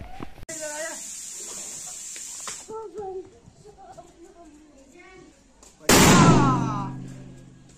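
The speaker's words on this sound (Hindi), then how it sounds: "चलो थोड़े चार पांच पटाखे फोड़ लेते हैं" A child chatters for several seconds, then a single loud, sharp firecracker burst cracks out near the end and fades with a short ringing tail.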